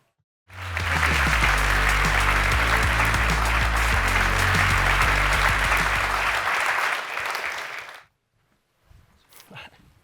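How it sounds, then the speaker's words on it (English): Loud, dense applause from a conference audience breaks out and holds steady for several seconds with a low rumble underneath, then tapers off and cuts to near silence before a brief voice. "How about one more round of applause for Genesis and Broadridge?"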